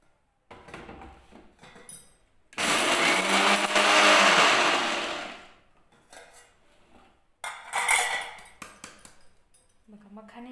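A kitchen mixer grinder whirs loudly as it grinds makhana (fox nuts), with a long run of about three seconds, then a shorter second burst, and quieter handling clatter and talk in between.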